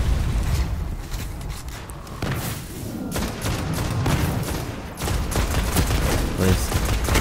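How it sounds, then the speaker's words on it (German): Rapid gunfire and booming blasts in a boss arena fight in Destiny: The Taken King on PS4, dense continuous volleys of shots with explosions, loud and close throughout. "Ich schieß dir ins Auge."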